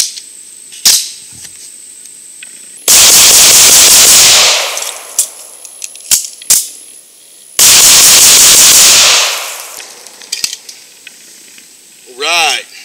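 Coonan Classic .357 Magnum autoloading pistol firing full metal jacket rounds, heard as two loud sustained bursts of rapid shots, each lasting a couple of seconds, with scattered clicks and handling noise between them.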